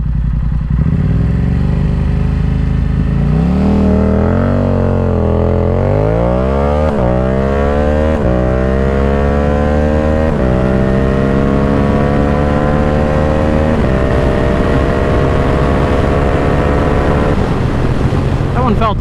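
Yamaha R7 sport motorcycle accelerating hard through the gears on a timed run, engine loud and close throughout, with rising revs broken by several distinct upshifts and steady wind rush behind.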